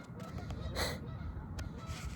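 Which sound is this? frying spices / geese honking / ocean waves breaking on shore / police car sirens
geese honking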